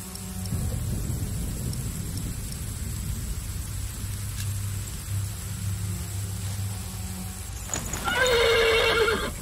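A horse on a stormy night neighs loudly near the end after a stretch of rain and low rumbling thunder, with faint hoof movement underneath; no one speaks.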